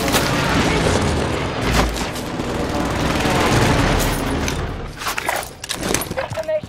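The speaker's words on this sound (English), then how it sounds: "Precision airstrike missed." Precision airstrike in Call of Duty Modern Warfare, a heavy rumbling barrage of booms and blasts that swells loud, then breaks into scattered sharp impacts near the end.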